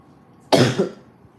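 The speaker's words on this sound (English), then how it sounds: "I feel like I got a cough." A single harsh cough rings out close by, one short burst and then quiet.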